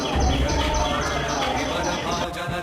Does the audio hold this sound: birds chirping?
yes